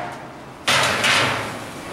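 Angle-iron-framed steel cooking grate sliding out of an offset pipe smoker: a quiet lead-in, then a sudden loud metallic scrape with a second grinding push, slowly fading, close by.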